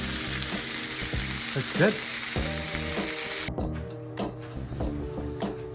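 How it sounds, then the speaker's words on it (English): Pan-fried yampo hisses loudly in a home kitchen at night, a broad sizzle under rhythmic clatters and scrapes of a utensil that stop halfway, leaving quieter clunks, with a brief spoken remark. "My wife is still cooking her pan-fried yampo."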